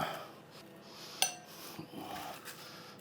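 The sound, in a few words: hot baked potatoes being put into a glass bowl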